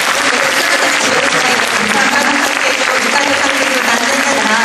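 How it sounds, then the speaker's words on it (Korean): Audience at a Busan International Film Festival guest talk breaks into loud, sustained applause, a dense wash of clapping that holds steady from start to finish with no gaps. "여러분들 응원의 박수"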